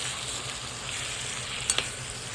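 Peas being stirred into spiced rice in a pan for a quick matar pulao, giving a steady, even sizzle with a couple of sharp spoon scrapes near the end and no talking.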